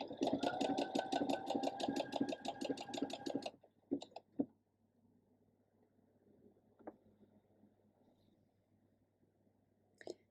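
A sewing machine stitches elastic onto a bra in a steady, fast mechanical run of about three and a half seconds, stops abruptly, then gives a few short clicks and taps from handling the fabric and machine.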